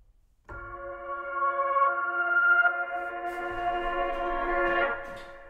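A reversed audio sample: a sustained tonal synth sound that swells in, with soft low pulses underneath and a rising, smeared tail near the end, alone without talk.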